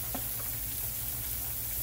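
Fries cook in olive oil in a big skillet over high heat, making a steady, dense hiss of bubbling oil with faint scattered crackles. No talking.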